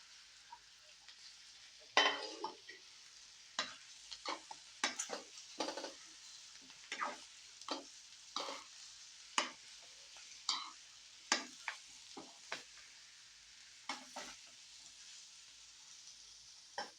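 Mixed vegetables with peas tossed in hot oil for Bhogichi bhaji, a steady sizzle broken by repeated clattering stirs of a spoon against the pan, close and fairly loud throughout.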